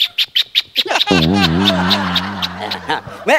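A person vocally imitates a doorbell: quick chirpy syllables, then a sustained sung two-tone ding-dong hum lasting about two seconds, close and loud.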